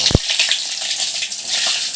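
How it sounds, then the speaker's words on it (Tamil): Sliced bitter gourd fries in hot oil, a loud close sizzle with crackling spatter and a sharp pop near the start, continuing as a dense hiss. "நான் வந்து காய வைக்கல, அதான் வெடிக்குது, தெளிக்குது."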